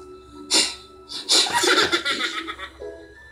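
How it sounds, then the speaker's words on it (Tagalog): On a live Filipino variety show, someone lets out a small, cat-like sneeze that is followed at once by a loud burst of laughter from several people. "Parang pusang bumabahing lang."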